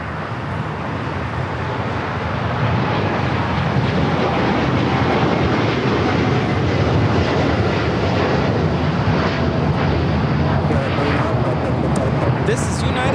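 A United Airlines Boeing 787-10 Dreamliner takes off at LAX, its engine roar building and then holding loud and steady, with people talking over it.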